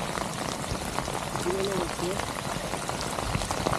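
Heavy rain from the season's first downpour pours down during low-tide fishing, a dense, continuous hiss of rain hitting surfaces that stays steady and fairly close throughout.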